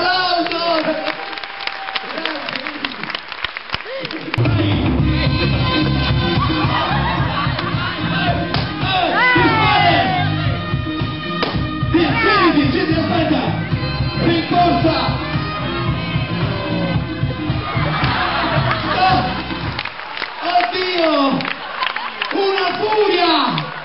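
Audience on a cruise ship show aboard Navigator of the Seas breaks into applause and cheering, a dense crowd roar with shouts running under loud music and an announcer's voice for most of the stretch.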